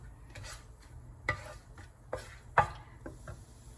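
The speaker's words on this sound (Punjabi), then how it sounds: "ਇਹਨਾਂ ਨੂੰ ਥੋੜਾ ਥੋੜਾ ਹਿਲਾਉਂਦੇ ਜਾਵਾਂਗੇ।" A spoon stirs whole cloves and cardamom in a pan for rajma, giving a few soft scraping clinks and light taps over a faint, steady background hiss.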